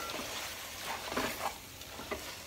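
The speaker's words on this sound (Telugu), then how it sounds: "ఇది బిర్యానీ రైస్ లోపలి చేశాను. బాగా కలుపుకోవాలి" Prawn biryani rice being stirred and mixed in a pot with mint, soft scraping and faint sizzling in short uneven strokes, quiet and close with no talk.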